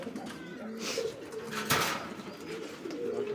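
Pigeons coo softly in a loft where pairs are offered for sale with eggs, the low repeated calls steady and moderately near under faint background noise.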